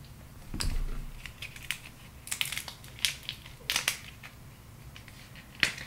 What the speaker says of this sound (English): Get the knife back out. Cut this thing open.